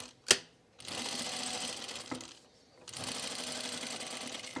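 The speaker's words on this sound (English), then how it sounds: "I'm going to sew these right sides together around just this perimeter edge using the 3/8 inch seam allowance" A sewing machine stitching shirt cuff pieces right sides together along a 3/8 inch seam, two close bursts of rapid, steady whirring stitching separated by a short pause, with a sharp click at the start.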